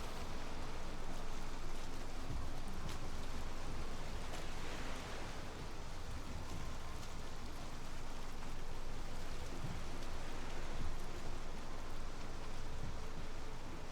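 Steady rain hisses continuously in the video game Valheim, a dense even wash of drops with no pauses.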